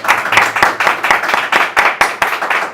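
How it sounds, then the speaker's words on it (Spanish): Small audience clapping at the close of a talk, a few distinct claps in an irregular rhythm, close and fairly loud, with no voices. "aplauso para Juan"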